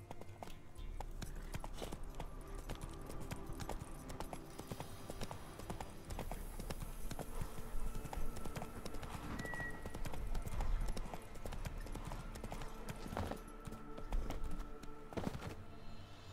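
Roach, Geralt's horse in the video game The Witcher 3, clip-clops steadily at a trot throughout, the hoofbeats continuous and fairly close over a low rumbling game soundtrack, with a brief whinny possible.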